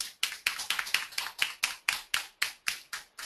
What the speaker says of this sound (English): A round of applause for Anis.